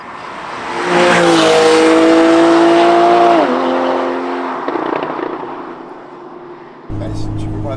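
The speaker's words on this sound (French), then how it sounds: "Oh, et les pétarades derrière." A Porsche 911 (991.1) Carrera 4S Cabriolet's naturally aspirated flat-six engine revs loudly, holding a high whine before dropping, followed by a crackling burst of exhaust pops and a renewed growl.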